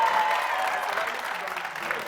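A studio audience on a French TV entertainment show claps for the footballers, giving brisk, continuous applause that fades slightly toward the end.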